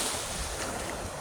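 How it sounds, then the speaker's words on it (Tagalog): Sea waves washing onto a sunny beach on a hot summer day, a steady broadband roar of surf and water with some wind buffeting the microphone and no clear voices. "Ayan, ang huni ng dagat."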